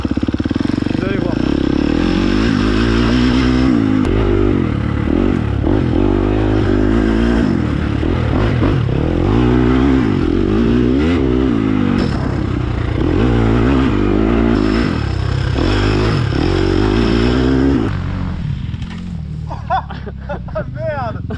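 Motorcycle held in first gear for laps around a small dirt motocross track, engine loud and close throughout with steady revving that rises and dips, a rider's voice audible over it.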